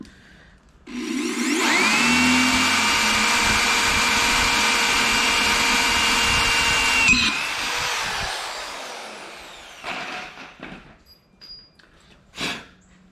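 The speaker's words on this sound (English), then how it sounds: "I'm going to start out by just drilling this out." A power drill bores out a hubcap clip on a 1965 VW Beetle, running as one loud, steady whine for about six seconds before spinning down, followed by a few light knocks and clatters.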